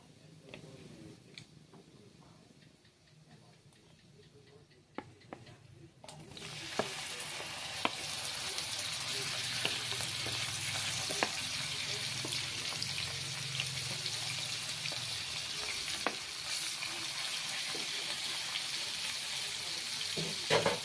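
Food dropped into hot oil, quiet at first with a few clinks, then a sudden loud sizzle that keeps hissing steadily with scattered taps.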